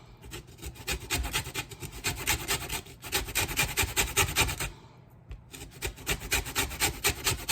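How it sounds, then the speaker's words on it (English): Lemon peel scraped against a hand grater, rapid rhythmic rasping strokes in steady bursts with short pauses, close and loud, no talking. "we're going to zest it. That means we're going to take it down to the white part of the lemon."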